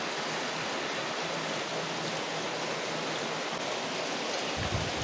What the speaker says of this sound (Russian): К вечеру уже идет дождь.